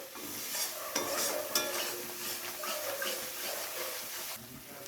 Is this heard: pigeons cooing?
no